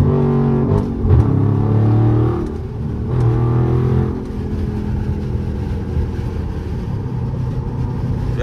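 A widebody Scat Pack car revs and downshifts in traffic, its deep engine rumble loud and close, with throttle blips and pitch changes rising and falling throughout.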